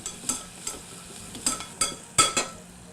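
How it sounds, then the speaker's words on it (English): Garlic sautés briefly in a pan for poached cod in tomato basil sauce, with a low sizzle broken by sharp scraping stirs and utensil clicks at irregular intervals, close and moderately loud. "And we're going to saute for only about 30 seconds because you don't want it to burn because it'll be very bitter."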